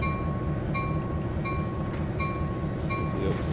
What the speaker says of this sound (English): Everyone likes train noises.